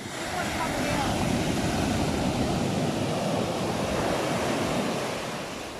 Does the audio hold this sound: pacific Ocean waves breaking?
yes